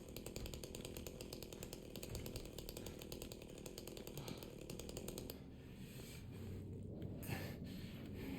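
A chainsaw revs loudly and steadily in the Silent Hill 2 Remake, its dense buzzing motor running on without a break, then dipping briefly and surging again near the end.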